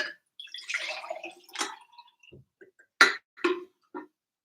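Water splashes and gurgles as it is poured into a cup still holding a little leftover coffee, a short burst of liquid noise followed by a few sharp taps and drips, close and fairly loud, without speech.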